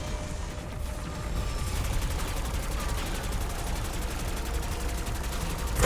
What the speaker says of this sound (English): Let's go ahead and see if this Model L assault rifle can crack both Sentinel artifacts